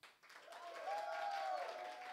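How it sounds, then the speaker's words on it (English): An audience breaks into applause, a soft, steady wash of clapping that swells and holds for a couple of seconds, with a faint tonal whine running underneath. "Please give a warm round of applause for Megan"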